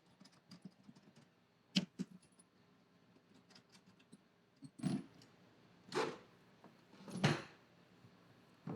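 Bolts come out of the saddlebag on a 2025 Harley-Davidson Road Glide, heard as quiet metallic clicks and ratcheting taps, then a few louder knocks and clunks of the hardware and bag, close up with no talking.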